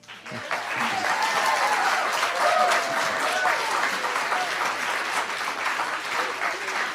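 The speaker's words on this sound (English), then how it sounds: "just had an entire audience of people applaud you on this subject" A large audience claps steadily and loudly for several seconds, a dense sustained wash of applause with faint crowd murmur underneath.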